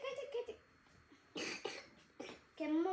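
Two or three short, sharp coughs break out amid quiet voices at a birthday gathering.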